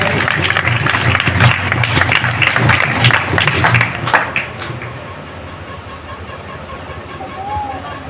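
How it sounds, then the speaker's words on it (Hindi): Audience applause greeting a speaker at a church gathering, steady clapping from a crowd that fades after a few seconds into quieter room noise and murmuring. "खड़े होते हैं तो तालियों के द्वारा हम स्वागत करेंगे।"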